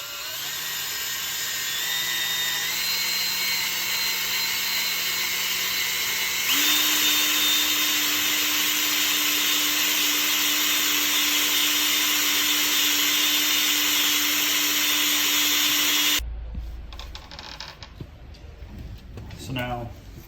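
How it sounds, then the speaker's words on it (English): A power sander grinds steadily and loudly against Brembo brake calipers from a Lexus RC F, its pitch stepping up midway before cutting out into quieter handling noises. "we're going to sand some of this off and get it smooth"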